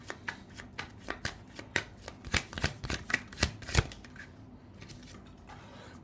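A deck of tarot cards is shuffled by hand in a quick run of crisp riffling snaps and flutters that comes close, then trails off into a near-silent pause.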